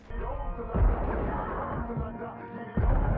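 Gunfire from the film Django Unchained erupts in booming shots over a rumbling film soundtrack, with a couple of heavy impacts standing out, under faint voices.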